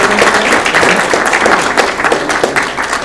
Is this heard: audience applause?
yes